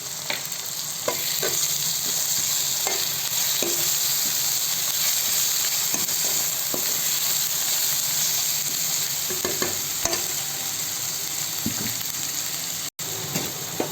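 Garam masala, chili powder and coriander powder sizzling in hot oil for chicken gravy, a loud continuous frying hiss with scattered clicks and scrapes of stirring, close up, no voices.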